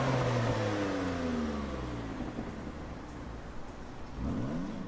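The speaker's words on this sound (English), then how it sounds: "Take a good look at this nice engine sound." A Mitsubishi GTO Twin Turbo with hidden headlights revs in Gran Turismo Sport, its engine note sweeping high then falling away before climbing sharply again near the end, loud and continuous with no talking.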